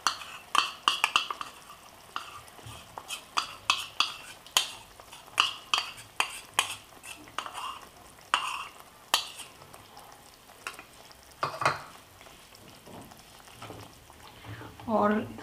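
Besan and onion paste stirred into a boiling curry for a spicy brinjal dish, with repeated spoon scrapes and clinks against the pot over a soft simmering bubble, under intermittent talking.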